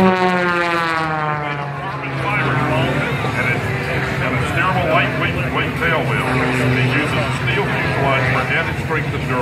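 An Extra 330 aerobatic airplane at the Wings Over Wayne 2017 airshow, its propeller engine droning loudly and shifting in pitch as it maneuvers, with crowd chatter and voices underneath.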